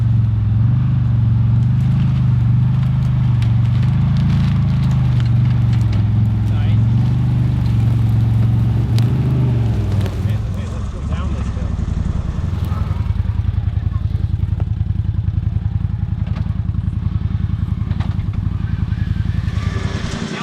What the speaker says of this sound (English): Let's see how it gets over these logs.